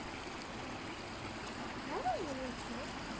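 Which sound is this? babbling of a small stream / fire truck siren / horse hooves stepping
babbling of a small stream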